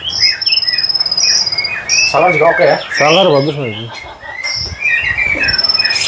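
A caged competition songbird sings in bright, repeated whistles and chirps over a constant insect-like trill at a bird shop, while someone talks over parts of the song.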